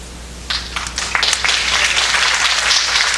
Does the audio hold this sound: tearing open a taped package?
no